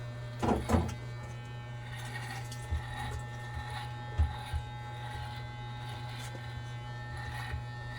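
Electric razor cutting long hair, a steady low buzz running throughout with scattered short scrapes and knocks of handling, close and moderately loud, with no voices over it.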